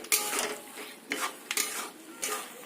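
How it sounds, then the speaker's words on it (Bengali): Boiled, blended pointed gourd is stir-fried in a pan, with a soft continuous sizzle and four or five broad scraping strokes of the spoon against the pan at close range. "পটলটাকে এইভাবে খুব ভালো করে কষিয়ে নিতে হবে"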